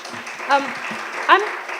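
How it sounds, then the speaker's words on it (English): Audience applause and scattered cheers at a public hearing, a brief noisy patter with a couple of voices calling out over it. "I'm going to ask everyone to hold their applause"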